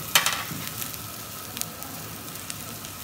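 Onions sizzle softly in a pan while saçtava cooks, a steady low crackle and hiss with a few brighter pops and stir clicks, close and alone without talk.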